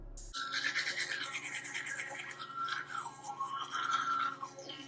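usmile Y1S electric toothbrush on soft mode buzzing steadily from start to finish, close up, with a slight wavering in the pitch of its hum.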